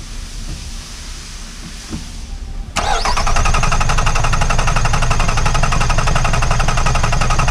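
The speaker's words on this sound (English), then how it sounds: "while it's cranking, it's going to record one screen and then stop" A car engine cranks on its starter motor, a faint low churn at first, then a loud steady grinding drone starting abruptly a few seconds in and running to the end, with no talk.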